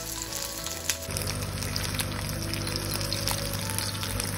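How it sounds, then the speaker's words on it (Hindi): Large onion pieces frying in hot mustard oil, a steady close sizzle with faint bubbling and occasional crackles, no talking. "जब तेल अच्छे से गरम हो जाए तब इसमें प्याज के ये बड़े बड़े पीसेस काट के डाल दीजिए।"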